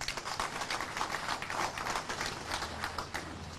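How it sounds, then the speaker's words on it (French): Soft applause from an audience, rhythmic clapping at a quiet, distant level throughout a short stretch. "Il faut applaudir pour le pays."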